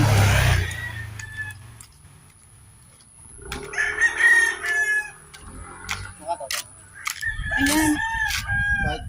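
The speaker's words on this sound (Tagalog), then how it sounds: "may mga manok doon" Chickens clucking nearby, then a rooster crowing loudly in drawn-out calls, with a brief rumble of a passing vehicle at the start.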